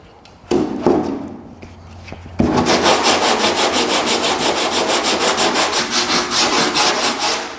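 Steady, rhythmic sanding strokes rasp against body filler on a 1950 Chevy truck's rear fender, preceded by a few scattered scrapes and knocks; close and loud with no talking.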